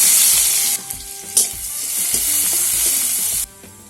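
Vegetables going into hot oil with garlic and onion after sautéing fish, giving a loud, steady sizzle with a few knocks of a spoon against the pan, before the sizzle drops sharply near the end.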